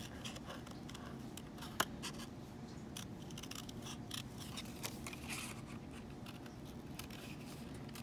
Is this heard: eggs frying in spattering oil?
no